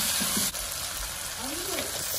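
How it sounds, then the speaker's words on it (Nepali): Carrots, potatoes and chopped tomatoes fry in a pan for vegetable thukpa, giving a steady, close broadband sizzle that hisses evenly throughout with no distinct breaks. "मैले गाजर र आलुलाई फ्राई गरिरहेको छु"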